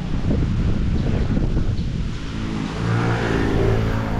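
Honda Click motor scooter on the move, its engine rumbling low and steady beneath strong wind buffeting the microphone, with a slight dip and rise in revs partway through; no voices.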